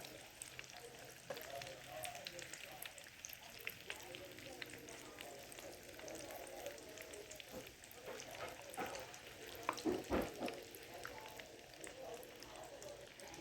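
Egg rolls frying in oil in a pan at home, turned over for the first time; a steady crackling sizzle runs throughout, with a sharper burst of spattering and clatter around the flip near the end.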